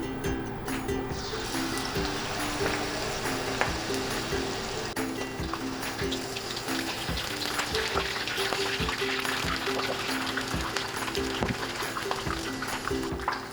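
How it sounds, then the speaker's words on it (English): Shrimp tempura battered and coated in butter sizzles steadily in hot frying oil, a dense continuous crackle and hiss with small pops, fairly quiet and constant throughout. "fry them for a little over 1 minute on each side"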